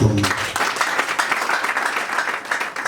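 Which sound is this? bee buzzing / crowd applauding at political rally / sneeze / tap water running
crowd applauding at political rally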